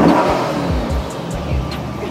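A car engine revs hard with repeated roaring surges and throttle blips, loud and close, filling the whole moment with no one speaking.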